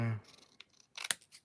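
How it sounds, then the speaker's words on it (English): A brief hum, then a few quick, crisp snips of scissors cutting model-kit decal paper, close and fairly quiet. "I'm going to use scissors."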